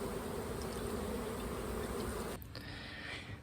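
A dense, steady buzz of more than 200 honey bees hums close by, continuous and fairly loud, dropping slightly in level near the end.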